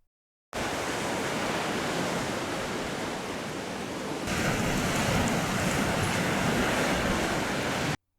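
A continuous broad rush of surf, steady and fairly loud, swelling slightly partway through before cutting off.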